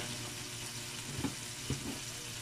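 Garlic and onion sizzle steadily in a hot pan, a constant crackling hiss with a couple of brief louder pops as they are stirred, no voices.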